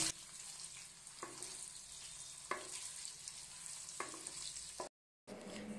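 Salted potatoes fry in oil with a constant crackling sizzle, broken by occasional spoon knocks and a brief dropout near the end.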